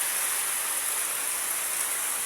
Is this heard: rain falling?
yes